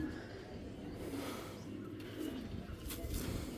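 Racing pigeons, including Belgian-bred birds, coo softly at close range in a loft, with a low continuous murmur and some background noise.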